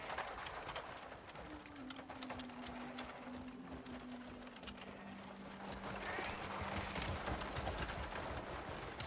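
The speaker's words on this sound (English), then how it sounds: "You don't hear the very loud wagon coming?" Faint, steady clip-clop of horse hooves pulling a wagon in the video game Crimson Desert, with a low droning tone underneath, heard at a distance.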